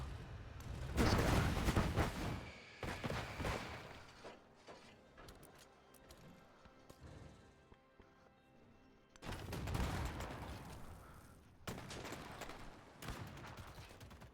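Bombing attack in Civilization VII, playing as Napoleon's Russia: two heavy bursts of rumbling impact with mechanical clatter, separated by a quieter stretch of game sound.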